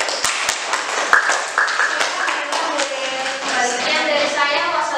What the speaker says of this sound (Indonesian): beri tepuk tangan untuk Balintang